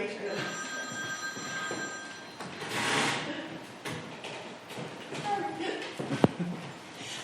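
A telephone rings in bursts under a person talking indoors, with shuffling and handling noises and a sharp click near the end.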